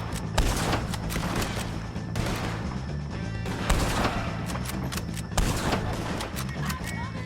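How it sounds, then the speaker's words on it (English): Dense, continuous gunfire rattles in a Red Dead Redemption 2 shootout, with repeated sharp shots and crashes layered over a constant roar. "shoot some of these O'Driscolls"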